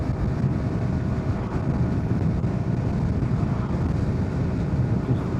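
Strong gusting wind roars steadily over the microphone while riding a 2025 Yamaha R125 motorcycle, a loud, close rumble of buffeting that masks the engine throughout.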